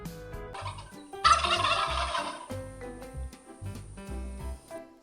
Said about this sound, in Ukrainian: Так, малята, це індик.